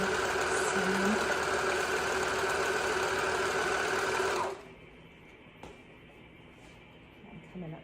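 A sewing machine stitches a seam in a steady, fast whirring run for several seconds, then stops, leaving a quiet room with faint handling noise.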